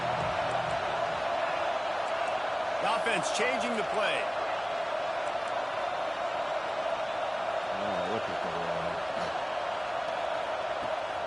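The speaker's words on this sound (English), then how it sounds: "Here comes the noise from this big crowd in Happy Valley on third down." A large college football stadium crowd at Penn State's Happy Valley roars on third down in a steady, loud wash of noise while an announcer talks over it.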